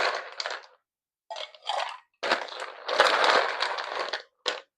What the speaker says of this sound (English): we are going to fill our shaker tin up to the top, and we are going to shake for about 15 to 20 seconds